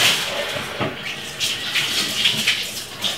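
Cut celery being washed under running tap water, a steady rushing splash at close range with small shifts as the pieces are moved about in the stream.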